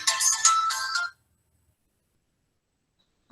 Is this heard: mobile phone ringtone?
yes